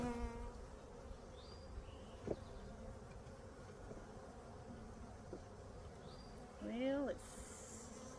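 Honey bees from Lit'l Grandfather Mountain hum steadily while being moved into a duplex hive, a low continuous insect drone with a few brief clicks and a short louder buzzing swell near the end.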